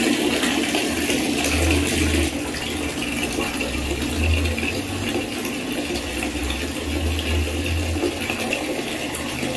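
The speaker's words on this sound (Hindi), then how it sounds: "थोड़ा पौधे में पानी डाल देती हूँ, पानी भर लेती हूँ" Tap water runs into a bucket at home, a steady, close gushing splash continuing throughout with no talk.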